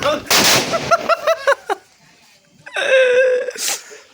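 A sutli bomb firecracker bursts with one sharp, loud bang during a village Diwali celebration. Excited voices shout right after the blast, and more shouting follows.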